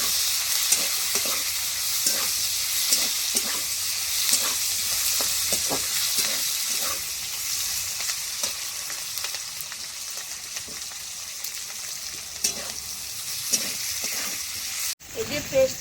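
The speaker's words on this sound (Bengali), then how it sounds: "এবার আমি পেঁয়াজ ক্যাপসিকাম টমেটো সব দিয়ে দেবো," Chopped onion, capsicum and tomato sizzle steadily in a hot pan with garlic for a soybean curry, with repeated scraping stirs over the continuous frying hiss.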